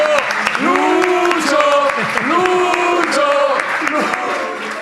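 Studio audience applause on a television show, clapping and cheers beneath loud overlapping voices that call out and chant a name, keeping the speech in front of the clapping throughout.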